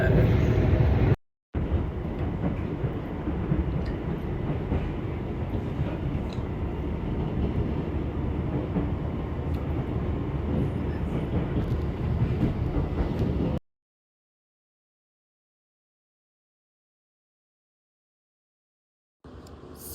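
A connecting train runs along the rails toward Hastings, a steady loud rumble and rattle of the carriage interior that cuts off abruptly, then returns briefly at the end, with no talking.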